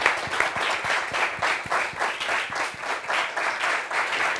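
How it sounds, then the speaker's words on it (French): Steady studio audience applause at a French talk show as a guest is welcomed, dense continuous clapping from a crowd filling the whole stretch with no voices on top. "On applaudit pour elle."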